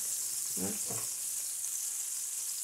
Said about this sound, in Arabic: وغادي نقلب الدجاج الجهه الاخرى